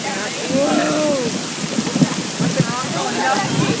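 Hail and rain pelt down steadily during a thunderstorm on the Susquehanna River, a dense continuous patter with some louder hits, and voices talk faintly beneath it.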